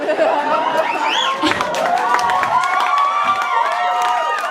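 Comedy night audience cheering and clapping, a mix of whoops, shouts and applause with crowd chatter, loud and close throughout.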